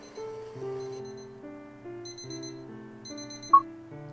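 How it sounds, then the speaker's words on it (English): A video game alarm in Veritas sounds as a soft looping electronic melody of sustained tones, repeating in short phrases, with a brief bright blip near the end. "It's just a false alarm."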